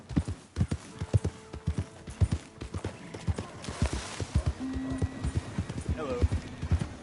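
A horse's hooves clip-clop in a quick galloping rhythm in Red Dead Redemption 2 gameplay, loud and close, with a short whinny or tonal call partway through and speech in the background.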